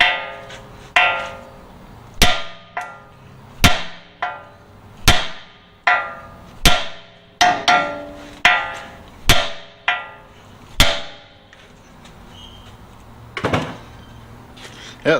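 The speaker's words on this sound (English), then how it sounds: "a trick that's a lot faster and you don't risk damaging the boot right here is to just smack it right here with the hammer." Sharp metallic hammer blows strike a steering knuckle repeatedly on a third-generation Toyota 4Runner during front wheel bearing work, about a dozen evenly spaced hits ringing out close and loud, then a pause with faint shuffling.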